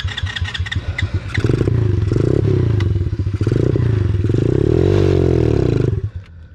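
An X-Motos 125 motorcycle engine starts with clattering, then revs loudly and up close in several long rising and falling sweeps before cutting back near the end.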